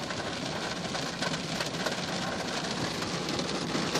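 Heavy monsoon rain pours down on Mt. Baldy in a dense, loud, continuous roar of drops with no letup, filling the whole stretch.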